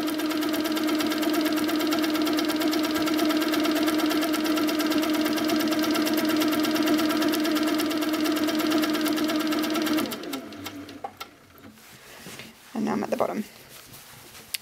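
An HQ Sweet Sixteen quilting machine runs at full speed, a loud, steady, high whirring hum that holds for about ten seconds before cutting off into quiet handling noises.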